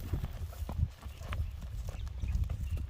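A young horse offered for sale walks and turns on command, its hooves clip-clopping in a steady, fairly faint rhythm outdoors with a low background murmur.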